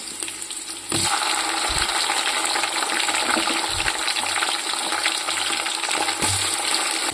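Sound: tomatoes being added to a frying gravy in a pan

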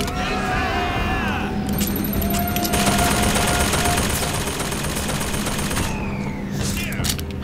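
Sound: gunfire in the video game BioShock Infinite

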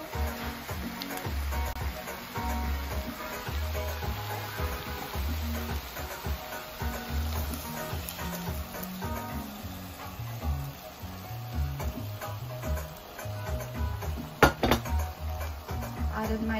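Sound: adding dal to the pot of ham bone soup

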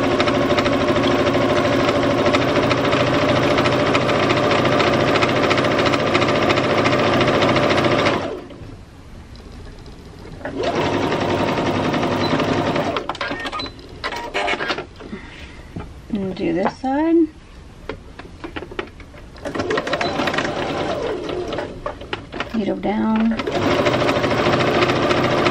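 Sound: sewing machine stitching

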